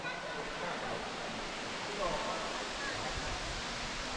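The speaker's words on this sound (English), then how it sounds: "waterfall." Steady, broadband rush of falling water fills the whole clip, constant and fairly loud, like standing near a waterfall.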